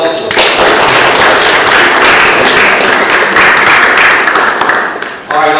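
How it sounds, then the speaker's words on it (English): An audience gives a presenter a loud round of applause, a thick, continuous roar of clapping hands that holds steady for about five seconds before dropping off abruptly. "Give him a round of applause."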